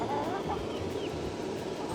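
A hen clucks softly nearby over a short stretch of steady background noise, with no one talking.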